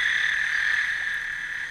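A chorus of male toads calls in a Mexican wetland during the rainy season, a steady, unbroken high trill that holds at even loudness throughout with no voices.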